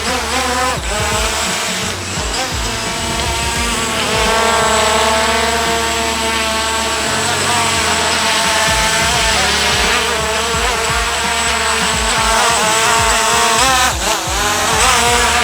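An EXO X7 Ranger drone in flight gives off a steady, loud buzzing whine of spinning propellers with harmonic tones that drift slightly in pitch, continuous for the whole stretch with no talking.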